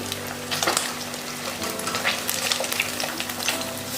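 Pieces of pandugappa fish fry in oil with mango pieces, giving a dense, steady close sizzle with bursts of crackle and occasional stirring noises, no voices.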